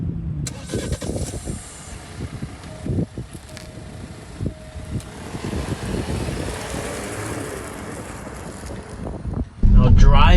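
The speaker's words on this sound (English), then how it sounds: "Driving the Alfa Romeo Stelvio" Alfa Romeo Stelvio on the move, heavy wind and road rumble buffeting the microphone, a low engine drone underneath with brief thumps, ending in a sudden loud burst of rushing noise.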